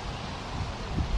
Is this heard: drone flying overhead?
no